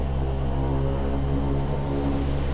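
The turboprop engines of a 1956 Convair 580 airliner roar at takeoff power during a snowstorm departure from Winnipeg, a loud, continuous propeller drone with strong steady tones.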